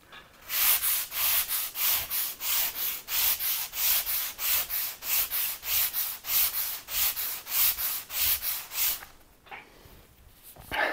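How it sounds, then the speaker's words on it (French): A sanding sponge, firm green side down, scrubs a surface in about twenty steady, even back-and-forth strokes with a dry rasping sound, then stops near the end. "il va falloir le poncer sévère"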